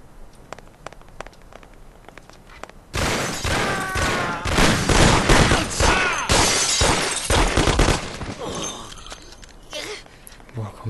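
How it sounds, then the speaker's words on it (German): Sustained bursts of gunfire in the video game Mafia, loud and dense for several seconds, with sharp single shots before and after, some faint speech mixed in. "Woher kommen die anderen Schüsse?"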